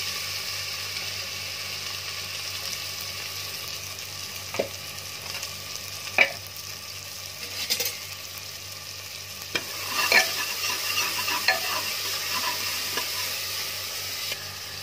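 Mustard oil and cumin seeds sizzle softly in a pan with a low steady crackle, broken by a few clicks and clatters of a spoon stirring.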